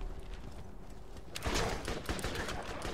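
Submachine gun fire in the shooter Borderlands crackles in quick, uneven bursts of sharp shots after a quieter stretch, fairly loud and close, with a few separate cracks trailing off at the end.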